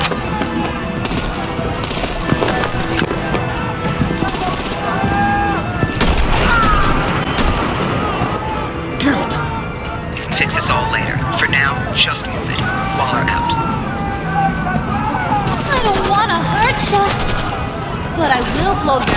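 Dense, sustained artillery gunfire from the video game Batman: The Enemy Within, with rapid bursts and booms layered continuously throughout, loud and close, with voices mixed underneath.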